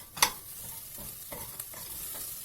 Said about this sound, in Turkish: Ve eti kavuruyoruz.